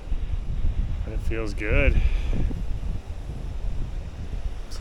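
Gusty wind at a tent campsite buffets the microphone in a steady low roar, with a person speaking briefly partway through.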